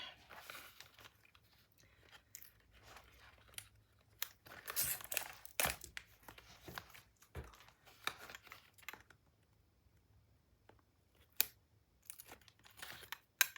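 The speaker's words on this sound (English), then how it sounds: "And then I'll remove the tape backing." Backing peeled off adhesive tape on a paper-craft mini album page, heard as scattered close crinkles and sharp tearing rips separated by quiet gaps, with no talking.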